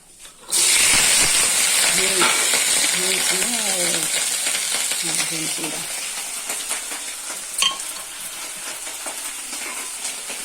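Something drops into hot oil in a pan and bursts into a loud, hissing fry that gradually settles into a steady crackling sizzle, with brief background voices and a metallic clink near the end.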